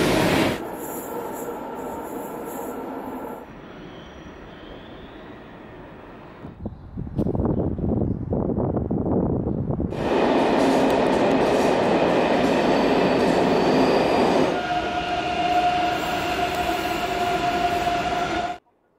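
A Brussels metro train rumbles and clatters steadily, its noise swelling louder with bright screeching and hissing tones as it moves through the station, then cuts off.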